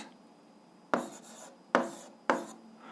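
Pen strokes write out an algebra solution on paper, three quiet separate scratchy bursts, each a sharp start fading over about half a second, close up with no voices.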